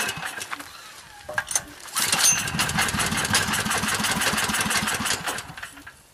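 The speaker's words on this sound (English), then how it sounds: "the gas production may not be at high enough rate to keep the engine running" A generator engine fed on wood stove smoke gas sputters and catches, then settles into a steady, fast-pulsing mechanical run that holds close and fairly loud before easing slightly at the end.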